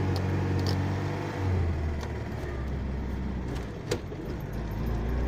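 A Tofaş Şahin car with its engine running, driven without using the clutch; a steady low engine drone continues from inside the cabin, with a short rattle or click midway.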